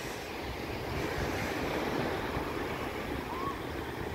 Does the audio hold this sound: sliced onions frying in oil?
no